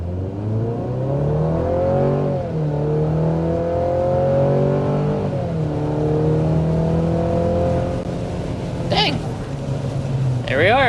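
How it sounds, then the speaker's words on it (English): A 2023 Chevy Colorado Z71 pickup accelerating hard, engine revving up through several rising sweeps as it shifts, steady and close inside the cab, with a brief whoosh near the end. "Acceleration a little faster than 60 miles per hour with the Colorado"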